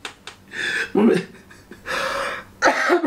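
A few rough, bursting coughs and throat-clearing noises, close and uneven, separated by short breathy pauses.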